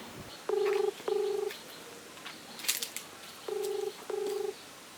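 Two pairs of electronic ring tones trill faintly over quiet background noise, with a brief rustle in the gap between them; no one speaks.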